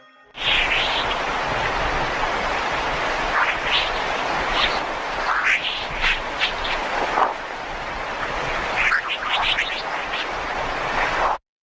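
An eerie electronic whooshing hiss from a sonified recording of solar storm waves, with rising and falling whistling tones sweeping through it, steady and continuous throughout.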